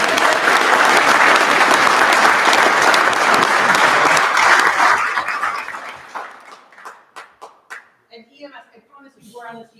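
A meeting audience at a county board of supervisors session gives loud, dense applause for Central Services for about five seconds. It fades into scattered claps and murmuring voices.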